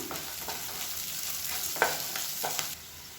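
Sliced onions with salt and a small lump of tamarind sauté in a pan for a tomato-free chutney, a faint, even sizzle broken by a few scraping spoon strokes, no talk.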